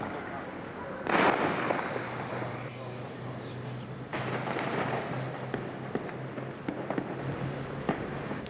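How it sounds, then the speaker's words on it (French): Distant gunfire cracks out in Kinshasa in September 1991, repeated sharp reports over a steady low hum, with one louder burst early and scattered shots after. "ça tire sec, c'est pas des petites rafales, hein. Ça dure pendant longtemps"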